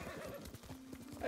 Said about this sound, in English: This horse is athletic as hell